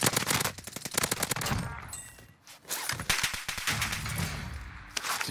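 Video game gunfire comes as rapid automatic bursts of sharp shots in clusters, separated by brief pauses and a quieter stretch midway, loud and close with no speech over it.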